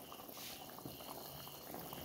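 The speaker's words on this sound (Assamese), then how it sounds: "বক বককৈ উতলি আছে" Fish curry with tamarind boils in a pot on a village kitchen stove, a steady low bubbling and hiss heard close but faint, with no talk over it.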